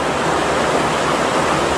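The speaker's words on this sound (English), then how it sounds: "This is where the pond drains down into the creek." Pond water draining down into a creek at a Catskill mountains campsite, a loud, steady broadband rush of flowing water that fills the whole short stretch without pause.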